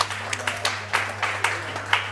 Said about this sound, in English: So give yourself a round of applause just for being here tonight.